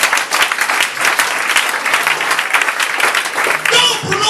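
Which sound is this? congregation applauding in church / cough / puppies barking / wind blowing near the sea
congregation applauding in church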